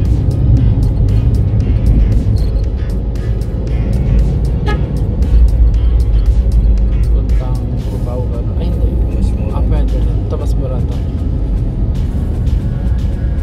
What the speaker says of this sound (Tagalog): Ang dami na sasakyan.